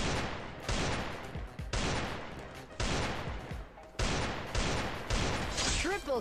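Rapid bursts of automatic gunfire from the Garena Free Fire video game crackle in repeated volleys, loud and close, with a voice talking excitedly over the shooting.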